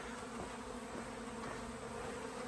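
Honeybees buzzing around stored honey frames in a hive box, a steady close droning hum of many bees throughout with no talking.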